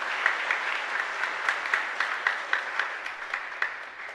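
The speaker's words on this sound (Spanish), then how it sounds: "le damos un aplauso en particular para ellos" Applause from a congregation during a Catholic Mass in a parish church, a moderate, even clapping with a few sharper claps standing out, heard alone without talk.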